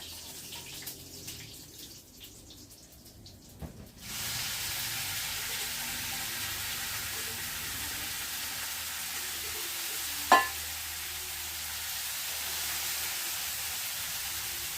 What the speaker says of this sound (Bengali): এবার আমি মাছটা দিয়ে দিচ্ছি কড়াইতে।